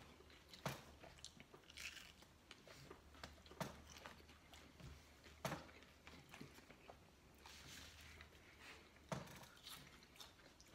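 Biting into and chewing a Doritos Locos Supreme hard taco with a Nacho Cheese Doritos shell; crisp crunches come close and faint at irregular intervals over a low hum.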